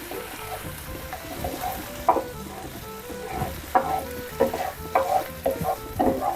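Anchovies and garlic sizzle steadily in a pan, broken up by repeated scraping stirs of a utensil at an irregular rhythm, close and moderately loud.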